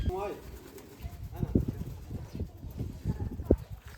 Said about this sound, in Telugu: పావురాలు అయితే చూడండి